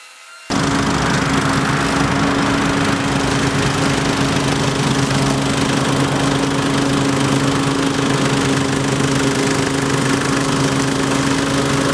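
An Exmark Commercial 30-inch lawn mower starts suddenly and then runs loud and close, with a steady droning engine roar and a constant hum that hold for the rest of the clip, with no talk.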